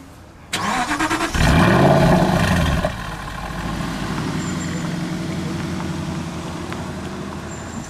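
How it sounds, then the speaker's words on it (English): An Aston Martin DB10 stunt car fires up with a sharp crank and a loud, brief rev flare, then settles into a steady, rumbling idle nearby, with no talking. "it's time to start up the car, hear how it sounds"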